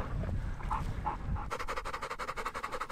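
A German shorthaired pointer and a Labrador resting in the shade after a Montana sharp-tailed grouse hunt, panting close by with a few whimpers first, then fast rhythmic panting breaths.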